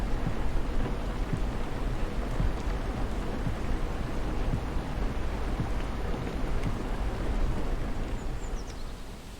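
Steady rain with low rumbling thunder in a video game, a dense, continuous wash of falling water that stays loud and even throughout, with no voices.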